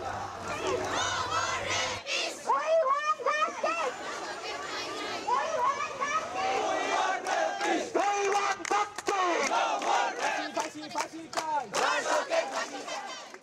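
Students chanting at a protest march on Paris Road at the Rajshahi University campus: a dense crowd of voices roars loud, rhythmic slogans close by, with sharp shouted bursts rising over the steady chant throughout.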